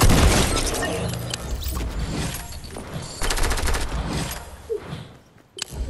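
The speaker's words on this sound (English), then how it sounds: "That's who they were shooting at." Gunfire in the Fortnite video game, fast bursts of rapid automatic shots with cracks and booms, loud and dense throughout, briefly dropping before a final shot.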